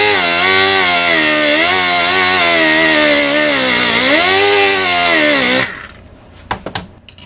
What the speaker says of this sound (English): So now I'm cutting the washer off of it.